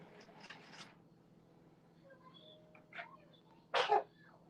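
A single sharp sneeze bursts out near the end, a short loud blast following a few softer breathy noises, in a quiet kitchen while someone bakes raspberry-filled cookies.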